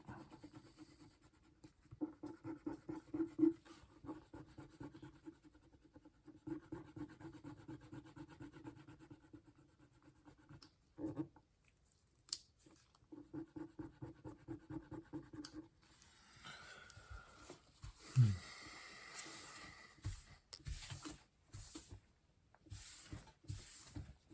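An eraser pen rubs gunk off the cover of a Captain America #323 comic book, giving soft, close scratchy strokes in short bursts with pauses, quiet throughout and ending in a few sharper scrapes.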